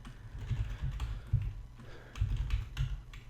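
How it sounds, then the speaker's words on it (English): Fingers type on a computer keyboard with quick, soft, irregular clacks in short bursts, close and fairly quiet, with no one talking. "So we have to type in python space main.py."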